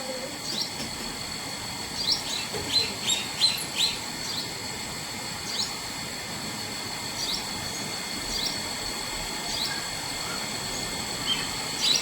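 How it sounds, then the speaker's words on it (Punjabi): Faint, high-pitched sparrow chirps come in a quick cluster early on as the parent arrives to feed its chick, then scattered peeps over a hushed background. "ਆ ਗਈ ਚਿੜੀ ਆਪਣੇ ਬੱਚੇ ਕੋਲ"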